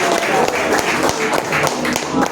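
Applause from a church congregation at a prophetic crusade service, a dense steady patter of many hands filling the room, with voices mixed in underneath.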